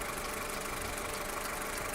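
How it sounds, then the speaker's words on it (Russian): A warm, fully heated Skoda Octavia Tour 1.4 16v engine idles with a steady mechanical rattle and knocking under a dense, even engine drone, heard close and without speech. "Двигатель горячий, то есть прогретый."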